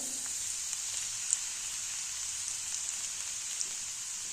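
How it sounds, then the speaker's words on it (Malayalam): Finely chopped garlic sizzles in hot coconut oil in a pan, a steady, fairly quiet hiss that holds evenly throughout with a few tiny pops. "ഇനി നമുക്ക് ഇതിനകത്തേക്ക് ചെറുതായിട്ട് അരിഞ്ഞു വെച്ചിട്ടുള്ള വെളുത്തുള്ളി ഇട്ട് കൊടുക്കാം."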